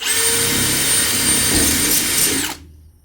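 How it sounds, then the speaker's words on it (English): A power drill whines steadily at high speed up close, drilling a hole in a lid, then cuts off abruptly near the end, leaving a faint low rumble. "work out exactly where to drill the hole in this fucking lid here"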